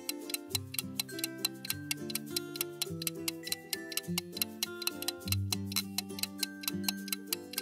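A clock ticks steadily and evenly, each tick crisp and close, under a backdrop of soft sustained musical tones throughout.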